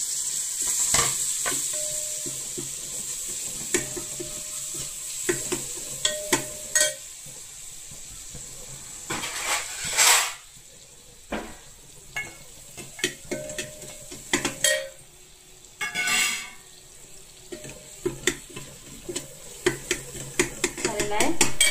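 Tomatoes go into a hot pan for a white pea and potato curry and sizzle steadily while a spoon stirs and scrapes, with repeated metallic clinks and knocks against the pan. A voice is heard in places.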